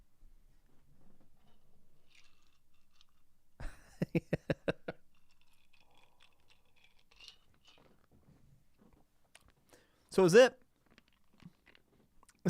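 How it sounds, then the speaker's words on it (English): Ice being chewed close to a microphone: a rapid run of crisp crunches in quick succession, a quiet stretch with faint small sounds, then a burst of louder crunching, with brief speech in between. "Oh, you want me to chew the ice?"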